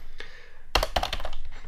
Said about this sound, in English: So they will start typing in things like